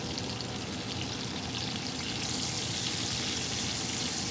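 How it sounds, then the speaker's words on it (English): Chopped onions sauté in a cast iron pan beside a ribeye steak, giving a steady, loud, close sizzle that stays dense and even throughout. "So I'm just gonna throw these onions in here and we'll saute these up to go with our steak."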